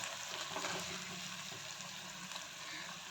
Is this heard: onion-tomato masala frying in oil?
yes